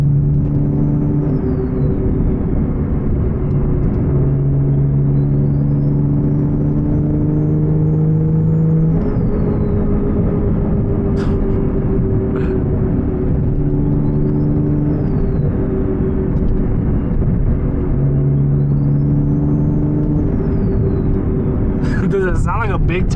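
A T51R motorcycle with a turbo mod, heard from the rider's position as a loud, steady engine drone with rising and falling whistling turbo spool sweeps and a few sharp pops near the end.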